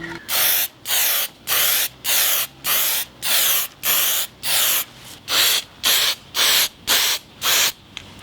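Black spray paint hisses from an aerosol can onto a Yamaha R6 motorcycle headlight in about fourteen short, even bursts, each followed by a brief pause, loud and close with no talking.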